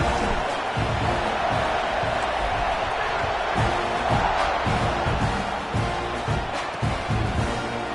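A big college football stadium crowd before a UCF kickoff, its loud, steady roar of cheering and murmuring filling the air with no break, and a few thuds and shouts rising from the din.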